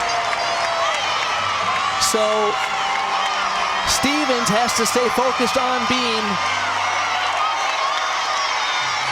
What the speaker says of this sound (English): You hear the cheering in the background.